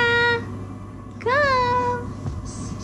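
Cat meows twice close by, a short cry followed by a longer rising and falling meow, with faint background noise between.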